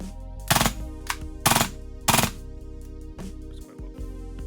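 A TTI AAP01 airsoft pistol fires on full auto in several short bursts of rapid sharp cracks, separated by pauses filled with a steady electronic hum, close and loud.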